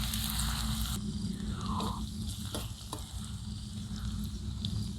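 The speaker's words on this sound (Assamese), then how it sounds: "আদা নহৰুখিনি এইদৰে ভাজি থাকিব।" Chopped ginger and garlic sizzle steadily in hot oil for a silkworm pickle, with a continuous close frying hiss and occasional stirring scrapes, no talking.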